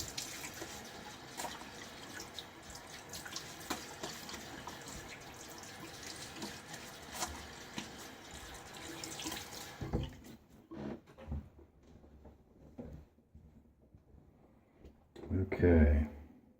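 Tap water runs steadily into a sink for rinsing off after a shave, a close hissing stream that stops partway, followed by scattered drips and splashes with someone talking over it.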